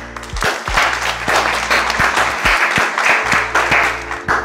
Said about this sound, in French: Vous attendez quoi? Applaudissez avec moi.